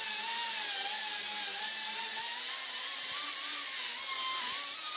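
Rotary power tool polishing a WASR AK-47 bolt carrier next to the gas piston, a continuous high-pitched whine that wavers slightly in pitch with light bumps as it touches the metal.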